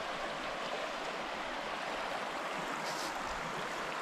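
Creek water flowing along a backpacking trail in the woods, a steady broadband rushing babble heard up close, constant and fairly quiet with no voices.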